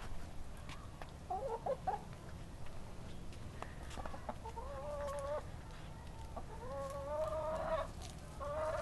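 Two backyard pet chickens cluck and make drawn-out calls in a series of bursts over quiet background noise, growing more frequent toward the end, with no talking.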